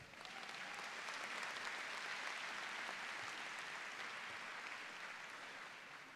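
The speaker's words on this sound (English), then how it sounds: "it's worth an applause" Audience applause fills a law school commencement ceremony at St. Thomas University, a dense, steady wash of many hands clapping at an even level for about six seconds with no break.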